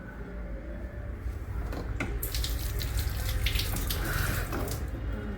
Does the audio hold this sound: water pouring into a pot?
yes